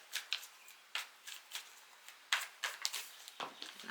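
A deck of tarot cards being cut and handled during a reading, giving a series of soft, brisk rustles and taps at close range, with no speech.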